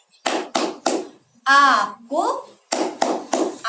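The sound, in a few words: children's rhythmic clapping game (tepuk anak soleh)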